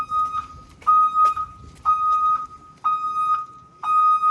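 A turn signal buzzer sounds during a transit bus pre-trip inspection, a steady electronic tone pulsing on and off about once a second, clear over quiet background with faint ticks.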